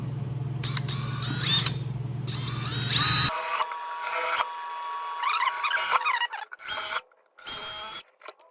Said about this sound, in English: just drilling holes for screws